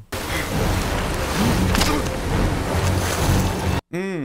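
A rushing river torrent in an action film: dense, roaring water noise fills the scene at high volume, with faint vocal sounds beneath, then a brief dropout and a swooping tonal sound at the end.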